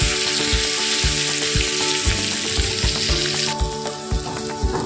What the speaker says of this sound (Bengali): হালকা করে ভাজতে থাকবো, পটলটা ভেজে নেবো।